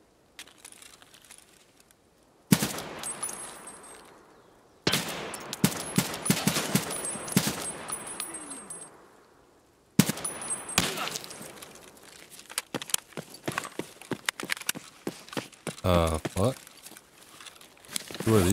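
Bursts of automatic weapon fire in Escape from Tarkov, sharp rapid cracks in several loud volleys separated by brief quiet gaps, with a voice talking intermittently.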